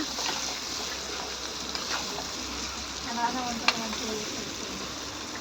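Ginger frying in a pan for brinjal curry gives a steady, close sizzle throughout, with a few faint clinks and stirring sounds.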